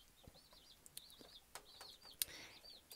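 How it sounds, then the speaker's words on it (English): Backyard chickens give faint, scattered chirps and short clucks, a few quick calls at a distance, with no voices. "Can you hear my chickens?"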